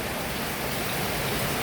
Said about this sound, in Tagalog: Wala nang tigil ang ulan, guys.